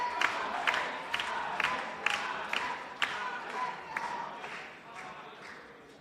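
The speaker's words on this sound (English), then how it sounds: "The crowd is always behind their man" A crowd at a live Brazilian jiu-jitsu fight event cheers in a continuous roar, with sharp rhythmic claps or shouts punctuating it roughly every half second, heard at a distance beneath commentary.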